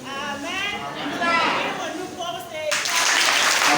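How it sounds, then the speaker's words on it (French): A Sunday church congregation breaks into applause near the end, a broad wash of clapping swelling in after a voice speaks; talk carries on over the start of it. "Applaudissez, retentissez le cri de joie en le nom de l'Éternel."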